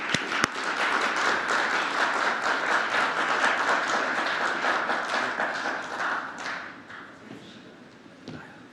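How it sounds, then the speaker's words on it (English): Applause from the audience at an international e-sports summit opening, steady and fairly loud clapping that holds for several seconds, then thins and tapers off with a few last scattered claps. "If you'd like to give him a round of applause."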